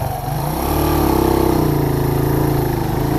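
A motorcycle engine runs in gear, a loud close steady drone that rises slightly in pitch and holds, without any talk.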